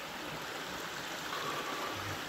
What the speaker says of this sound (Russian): Это ручьи. Бегут с гор, снег до сих пор тает.